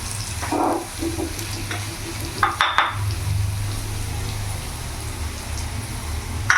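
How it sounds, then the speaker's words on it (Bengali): Potatoes fry with salt and turmeric powder in a pan, giving a steady close sizzle with a few scraping stirs and clinks of a utensil partway through. "হলুদ গুঁড়ো দিয়ে দিলাম, একটু ভাজা ভাজা করে নেব।"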